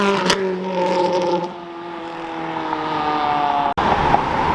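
Ferrari cars driving and revving past at a Houston Ferrari festival, a loud sustained engine drone with rising and falling harmonics as cars pass close by, plus a brief sharp sound near the start and a short break near the end.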